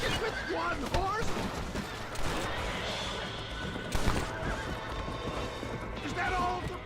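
In Red Dead Redemption, horses neigh and whinny repeatedly over clattering hooves and chaotic crashes, with voices talking over the action throughout.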